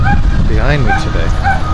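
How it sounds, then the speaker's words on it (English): A neighbor's dog barks and yips in a backyard, with short, sharp, high, whiny bursts repeating close by while someone talks over them. "That's my neighbor's dog."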